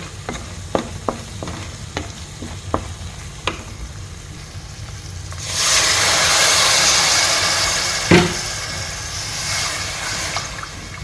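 Native small radish (deshi mula) with mrigel fish in a Noakhali-style pot: sharp tapping and clinking of utensils at first, then a rush of water poured into the hot pot that sizzles and hisses loudly for several seconds before settling.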